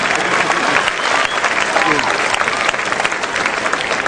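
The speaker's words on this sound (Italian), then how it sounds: "Propongo un applauso a chi ha realizzato l'evento" Circus audience applauding at the 130th anniversary celebration of Circo Togni, loud sustained clapping from a large crowd with faint voices mixed into the steady roar.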